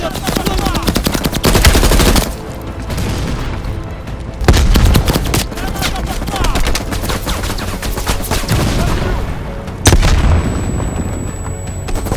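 A mounted machine gun hammers away in Call of Duty Black Ops Cold War, rapid sustained bursts of gunfire broken by heavy booming impacts, loud and close throughout.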